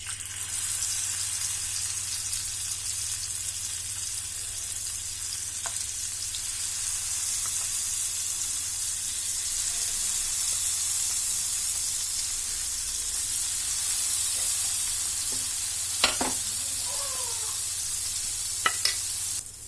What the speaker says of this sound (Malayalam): എണ്ണ നന്നായിട്ട് ചൂടായിട്ടുണ്ടെങ്കിൽ നമുക്ക് നമ്മൾ മാരിനേറ്റ് ചെയ്ത് വെച്ചിരുന്ന ഫിഷ് ഇട്ട് കൊടുക്കാം.